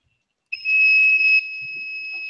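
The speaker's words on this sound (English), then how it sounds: "Fire alarm!" A fire alarm buzzer in a podcast studio sounds a loud, steady high-pitched electronic tone that starts abruptly after a short silence, holds for about a second, then continues slightly quieter to the end.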